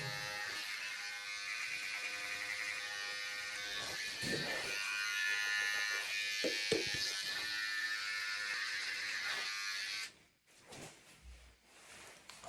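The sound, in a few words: electric hair clipper during a home haircut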